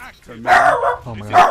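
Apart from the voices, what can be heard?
dog barking in the room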